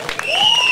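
An audience applauds at an outdoor festival concert, with brief, light clapping in a short burst. A sustained rising whistle-like tone rings over it, and a few scattered cheers are mixed in.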